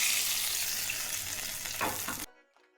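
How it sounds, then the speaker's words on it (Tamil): Crushed cumin seeds splutter in hot ghee, a loud, dense crackling hiss that stops abruptly after about two seconds, leaving only a faint tail. "சீரகம் நல்லா பொரியணும்"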